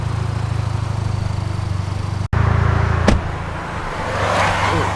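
A Mitsubishi Lancer Ralliart on a test drive, heard from inside with a steady loud engine drone, a sudden cut, then a thump and a gently rising hum.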